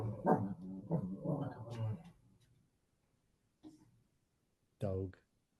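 A dog makes short voiced barks and whimpers, one near the end and one fainter in between, following a stretch of speech-like vocalizing that may be a person imitating the dog; otherwise quiet.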